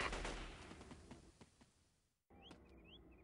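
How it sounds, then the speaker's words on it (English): A gunshot in the Delta Force 2 video game during a pilot rescue mission, a dense burst of sharp cracks that quickly fades into a long decaying tail, followed after a short gap by faint bird calls. "That sounded like a shot by Alpha"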